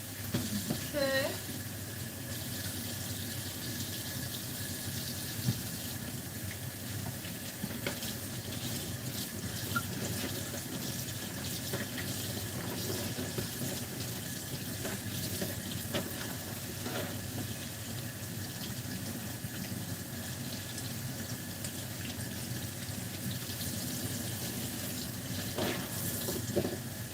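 A kitchen tap runs steadily into a sink while items are washed, a continuous hiss and splash broken by occasional clinks, with a voice talking over it during a brunch of French toast.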